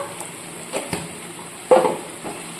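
Spices with coriander powder are sautéed in a pan, giving a low frying hiss broken by scattered scrapes and clinks of a utensil stirring, with one louder scrape near the end.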